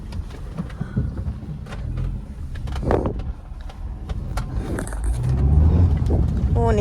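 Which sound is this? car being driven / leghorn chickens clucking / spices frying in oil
car being driven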